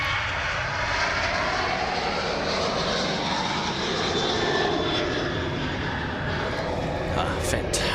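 A Cebu Pacific Airbus A330-900neo jet at Sydney Airport roars steadily nearby during takeoff, a broad continuous engine rumble and hiss sustained throughout with no voices over it.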